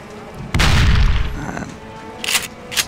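Guns fire in a VR zombie game: a loud, booming burst trails off into a rumble, followed by two shorter, sharper shots near the end.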